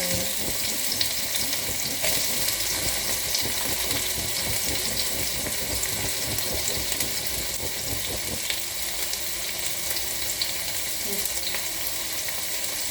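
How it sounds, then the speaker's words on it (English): Garlic and onion frying in a pan, a steady dense sizzle running throughout with faint clinks of stirring and a trickle of water from a tap now and then. "We cook the onion."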